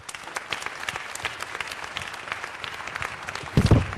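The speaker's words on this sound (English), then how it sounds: "A round of applause for Brian Pendleton." Scattered applause from an audience at an LGBTQ community event, light and fairly distant, with a louder thump near the end.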